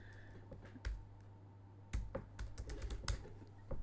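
Light, irregular keystrokes tap on a computer keyboard in quick bursts with short pauses, close and fairly quiet, and no one speaks.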